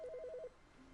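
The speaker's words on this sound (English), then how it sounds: "Can I answer the phone? I hear a phone." A telephone rings inside The Stanley Parable, a quick two-tone electronic trill repeating for about half a second before dropping to a low, quiet room hum.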